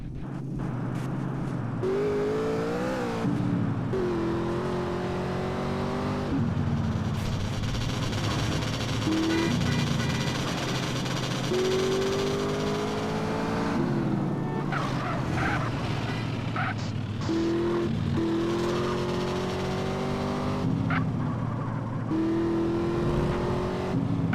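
A car speeds along in GTA San Andreas, its engine droning steadily and rising and falling in pitch with revs, loud and continuous throughout with no talk over it.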